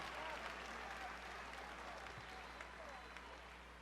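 Audience applause at a campaign event in Pittsburgh, a broad steady wash of clapping that fills the moment at a low, distant level and slowly eases off.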